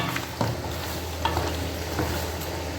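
Mutton white karahi curry sizzling hard on a high flame, a steady, close frying hiss with light bubbling pops and a few soft stirring scrapes, no talking.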